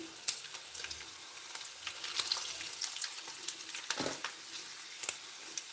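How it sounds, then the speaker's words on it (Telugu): Garlic and dried red chillies fry in a pan for a tamarind chutney, giving a faint, steady sizzle with scattered small pops and crackles, close but low in level. "ఎల్లిపాయలు వేసేస్తున్నారా ఇప్పుడు ఎండుమిర్చి కూడా వేసేసుకొని"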